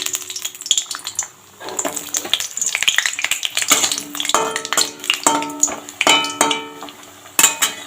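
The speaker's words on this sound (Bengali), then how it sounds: "প্রথমে এখানে বড়িটা ভেজে নেব।" Bori, small lentil dumplings, frying in hot oil in a pan for a winter vegetarian dish, with a steady close sizzle and repeated clinks and scrapes of a spatula stirring against the metal.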